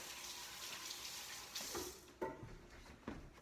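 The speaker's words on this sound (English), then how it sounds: "Wash my hands." Tap water running into a kitchen sink while hands are washed, a soft steady splash with a few louder bursts and clatters near the end, fairly quiet and without talk.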